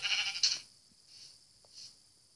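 Sheep bleating in a blocky survival video game, a short bright bleat up close followed by two fainter, softer bleats spaced apart, with no talk over them.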